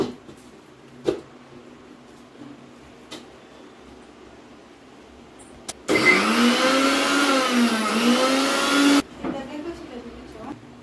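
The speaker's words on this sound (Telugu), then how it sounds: "ఇప్పుడు మిక్సీ పడుతున్నా దీన్ని చూడండి" A mixer grinder whirs loudly for about three seconds, grinding henna leaves, a steady high-pitched roar that starts and stops abruptly, with quieter background sounds before and after.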